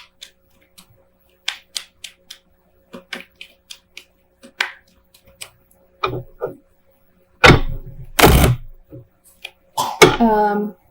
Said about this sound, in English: let me just shuffle here and we'll pull a few clarifying cards